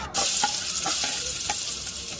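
Food sizzles loudly in a smoking hot pot as it is sautéed for pork in coconut milk with string beans, a steady frying hiss broken by a few stirring clinks, with no talking.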